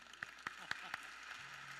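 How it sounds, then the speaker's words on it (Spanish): Sparse applause for a doctor at a mental health forum: a few distinct, evenly spaced claps, faint and distant in a quiet room, fading out after about a second. "Un aplauso para el doctor José Ramón."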